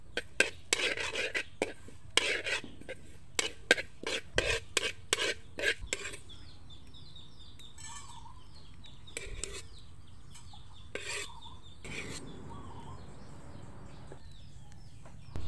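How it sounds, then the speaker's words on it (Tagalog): Anise seeds toasting in a hot pan, stirred in irregular bursts of dry scraping and rasping, loud at first and thinning out after a few seconds, with faint background sounds and no talk. "Pinakauna natin gagawin ay itosta itong anis sa mainit na kawali"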